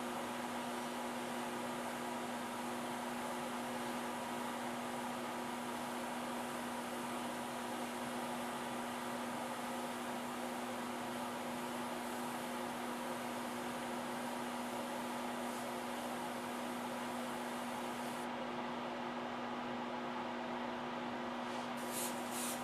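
An airbrush sprays paint with a steady, unbroken hiss and a faint hum that run the whole length at an even level, briefly thinning near the end.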